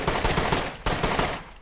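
Bursts of rapid gunfire in the survival game SCUM, loud and close, a dense string of shots with a brief break partway, fading at the end with no talk.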